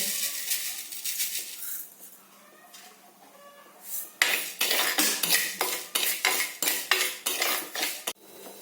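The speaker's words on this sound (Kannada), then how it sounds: "ಕುಚ್ಚಲಕ್ಕಿ ಇತ್ತಲ್ಲ, ಇದನ್ನು ಸ್ವಲ್ಪ ಹುರಿದುಕೊಳ್ತೇನೆ." Parboiled rice is roasted in a pan with a little oil. A spoon scrapes and stirs it, soft at first and then in a run of loud, rhythmic metallic strokes.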